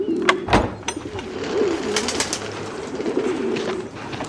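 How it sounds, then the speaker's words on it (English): Pigeons coo in a loft, a steady low throaty burbling that runs throughout, close and clear, with a few sharp knocks and faint rustles mixed in and no talk. "I can hear pigeons."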